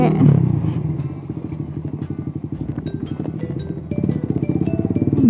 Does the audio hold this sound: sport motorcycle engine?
yes